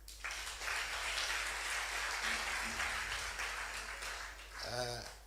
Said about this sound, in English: May I ask you to applaud them for me?